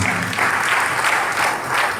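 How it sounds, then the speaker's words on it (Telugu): A church congregation claps in praise during a Sunday Advent Mass, a dense, steady roar of many hands sustained for the whole stretch, loud and close with no voices over it. "చప్పట్లు దేవుని స్తుతించుదాము"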